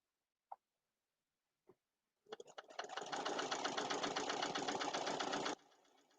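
Home sewing machine stitching a fabric potholder with borders: after two faint taps, a steady close motor whir with a rapid needle rhythm runs for about three seconds, then stops.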